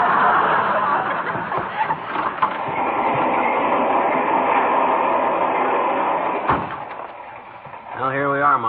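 Steady rumbling clatter of a fast-moving train sound effect in an old radio comedy fills the scene, with a voice talking over it throughout.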